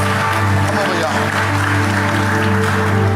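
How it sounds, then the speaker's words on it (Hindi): Congregation applauding during a church service: steady, dense clapping throughout, with someone speaking loudly over it and musical tones underneath. "Give Jesus a clap offering right now."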